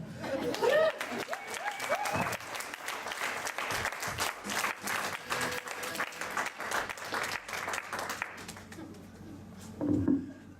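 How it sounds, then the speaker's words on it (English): A comedy club audience applauds and cheers a comedian, with lively clapping mixed with chatter and a few chuckles, swelling at the start and fading toward the end, with a voice breaking in near the close. "Another round of applause for Sofie Prince"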